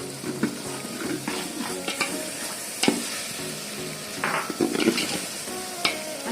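Biryani masala with green chilli powder sizzles and fries in a pan, a steady crackling hiss broken by irregular clinks and scrapes of stirring, close and moderately quiet.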